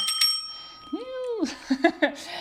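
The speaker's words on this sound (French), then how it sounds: "Oui, t'entends, il y a une petite sonnette." A small bell from a German board game rings a few quick times, bright and close, followed by light clattering and soft handling noises.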